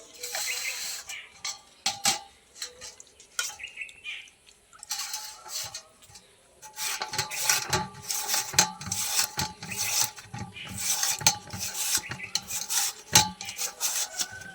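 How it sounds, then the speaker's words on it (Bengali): Peeled potatoes rubbed against a grater in a home kitchen, a steady scraping rasp in repeated strokes, near and fairly quiet, with occasional clinks of utensils and no talk. "এবার এর মধ্যে থেকে একটা একটা করে নিয়ে আমি গ্রেট করে নেব।"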